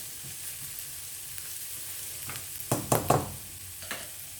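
Coconut pieces and shallots fry in hot oil for Pesaha appam and paal, a close, steady sizzle punctuated by a few louder stirring scrapes and crackles toward the end.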